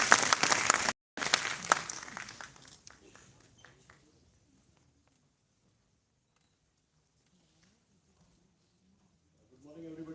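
Audience applause welcomes a keynote speaker onto the stage at a campus event, loud for about three seconds with a brief gap, then fading into near silence before a voice begins at the end.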